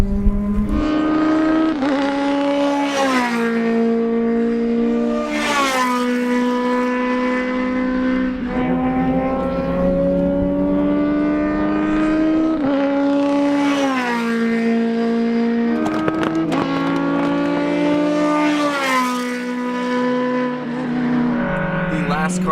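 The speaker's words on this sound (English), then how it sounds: "the blue and orange Formula BMW going through turn 1 right now" Blue and orange Formula BMW race car taking turn 1 on a racetrack, its engine note repeatedly rising and falling through gear changes and revs, loud and steady, with voices talking over it.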